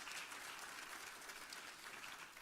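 Brief applause from an audience at a museum talk, honoring the Georgia Humanities Council, an even patter of clapping heard faintly at a distance.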